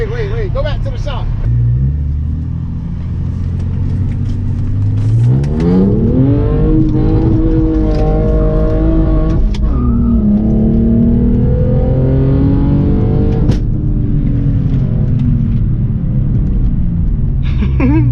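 A BMW E46 revs hard and slides on a wet street in the rain, its engine rising and falling in loud, close sweeps. Voices talk over the engine throughout.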